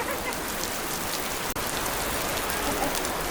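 Steady rain falls on the first day of Purattasi, a dense, even hiss of drops hitting surfaces close by, continuous and alone for the whole clip.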